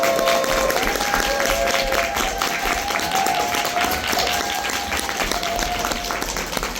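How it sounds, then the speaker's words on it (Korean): Big, steady applause from a seminar audience welcoming a guest lecturer to the stage, dense clapping with faint crowd cheers running throughout. "큰 박수로 환영해 주시겠습니다"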